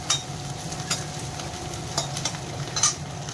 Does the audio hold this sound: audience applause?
no